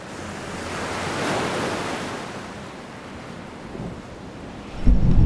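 Raging storm-surge waves smash against a bay's beaches as low pressure brings a storm, a broad roaring surf wash swelling and easing, with wind rumble and a sharp crash near the end.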